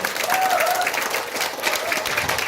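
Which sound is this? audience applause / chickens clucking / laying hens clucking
audience applause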